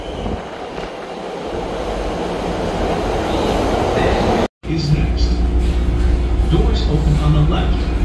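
A Chicago 'L' Blue Line metro train pulls into the station, a building rumble of wheels on rails that swells into loud, close clatter and screeching, with a brief cut partway through and a voice speaking faintly over it.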